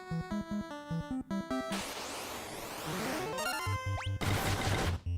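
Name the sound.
block sound effect from the video game Final Fantasy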